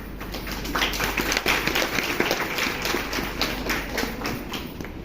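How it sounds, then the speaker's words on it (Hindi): Scattered clapping from a seminar audience at a networking talk, a loose irregular patter of many hands at moderate level, steady through the moment with no voices over it. "जबरदस्ती बजा रहे हो ताली सारे के सारे"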